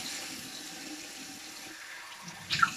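Cold tap water running into a sink for washing the face, a steady soft splashing stream throughout with a brief louder splash near the end, no talking.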